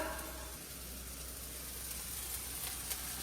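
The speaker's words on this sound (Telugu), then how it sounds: "ఈ రొయ్యలు వేయించుకుందాం" Dried prawns frying in oil in a pan for an egg curry, a quiet, even sizzling hiss that holds steady throughout with no speech.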